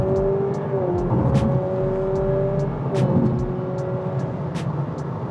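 A Honda Civic RS e:HEV with a 2-liter Atkinson-cycle four-cylinder hybrid pipes a synthetic engine note into the cabin while accelerating, a smooth rising tone that steps up and drops back as if shifting gears, heard from inside.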